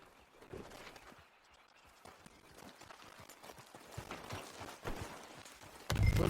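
Horse hooves clip-clop at a walking pace in Red Dead Redemption 2, a soft, fairly distant rhythmic clatter of irregular hoofbeats building slightly in loudness, with a louder burst of noise at the very end.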